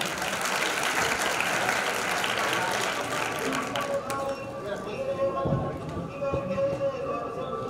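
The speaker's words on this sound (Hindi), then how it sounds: "एक बार सभी के लिए जोरदार तालियां होनी चाहिए।" A crowd claps loudly for about four seconds at a community award ceremony, then the applause fades into a sustained musical tone.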